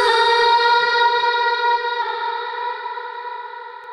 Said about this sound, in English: if you just hear the parts that I cut out that are just reverbing